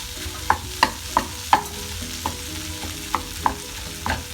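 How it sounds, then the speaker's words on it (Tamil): Tuna pieces coated in masala are stirred in a frying pan, a spoon scraping the pan in regular knocks about every third of a second over a low, steady sizzle. "நல்லா கிளறிக்கணும்."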